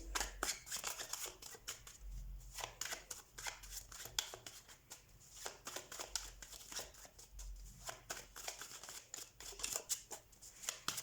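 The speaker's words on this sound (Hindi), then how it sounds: "हम कार्ड शफल कर लेते हैं आपके लिए" Tarot cards being shuffled by hand in repeated quick riffles and taps, soft and close, with no talk.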